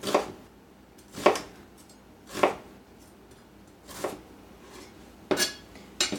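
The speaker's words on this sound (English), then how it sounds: "I'm just gonna make these slices a little bit thinner" Onion sliced thin with a knife on a cutting board, about six separate slow chops spaced roughly a second apart, close and crisp against a quiet kitchen, no talking.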